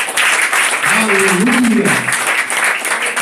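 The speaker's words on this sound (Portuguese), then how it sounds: "vamos bater nas palmas mais uma vez a Jesus." Congregation applause fills a church service, steady broadband clapping throughout with a voice calling out and sustained singing-like tones rising briefly in the middle.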